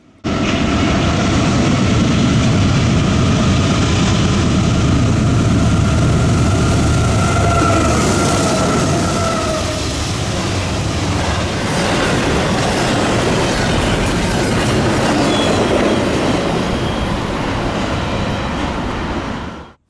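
A freight train led by two C6M locomotives passes on the NS Chicago Line: a loud, continuous rolling rumble with a sustained tonal squeal early on, then wheels clattering and the sound slowly easing toward the end.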